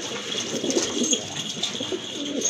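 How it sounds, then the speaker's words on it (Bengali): A breeding pair of pigeons coos in soft, repeated, throaty calls close by, layered over a steady background hiss with no talking. "এই যে দেখেন ডাকাডাকি কিন্তু শুরু হয়ে গেছে।"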